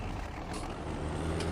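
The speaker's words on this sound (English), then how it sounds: "I get it's not the best turning circle in the world, this tractor." Farm tractor engine turning and manoeuvring, a steady low rumble with a broadband mechanical hiss, close and continuous with no talking.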